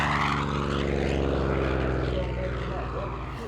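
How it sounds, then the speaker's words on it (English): A Corsair propeller fighter drones past with a steady, loud engine roar and throbbing propeller tone that slowly shifts in pitch, continuous for the whole stretch. "Corsair with Dan Damio flying the airplane"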